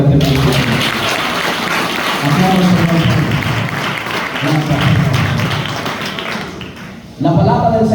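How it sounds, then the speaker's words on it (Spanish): A church congregation gives applause during an evangelistic service, with dense clapping rolling on for several seconds, dipping briefly before a louder burst near the end, while voices sound underneath. "Den un aplauso al Señor por este momento"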